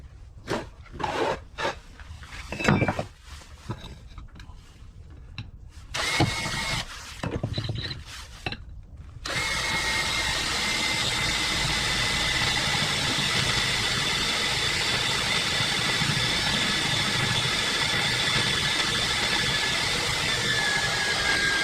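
A 19.2-volt cordless drill runs continuously at a steady, loud whine for a long stretch, after some brief handling knocks and rustles at the start.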